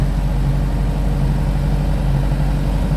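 A Ford 5610 tractor engine runs steadily at close range, a continuous low diesel drone with an even throb and no speech over it, the tractor working on steep ground.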